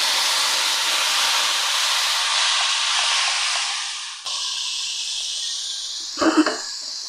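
Spice paste hits hot oil tempered with cumin seeds and bay leaf for a cauliflower paneer curry, letting out a loud, sustained hiss that dips and flares again, with a short clatter near the end.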